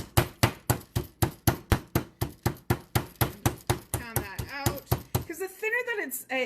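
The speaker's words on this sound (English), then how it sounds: "We just want to pound it out." Turkey meat is pounded flat on a board with a steady run of about fifteen heavy, evenly spaced thuds, and then someone talks as the pounding stops.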